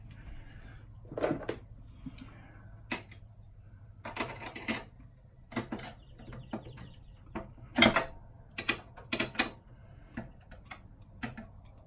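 Screws being driven into the frame of a window converted from an exit type to a crank-out type, heard as scattered short ticks and clicks in irregular bursts over a low steady hum, fairly close and moderate in level.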